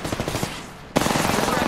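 Rapid automatic gunfire in the Apex Legends battle royale game, a burst of rhythmic shots at the start, a brief lull, then a loud sustained volley of fast repeated fire to the end.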